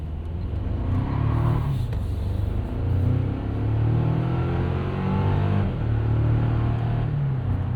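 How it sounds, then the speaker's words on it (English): A 2024 Toyota Tacoma SR5 pickup with traction control off revs hard and spins its tyres, a loud sustained engine roar rising and falling in pitch, with no talk over it. "A little bit of wheel spin there."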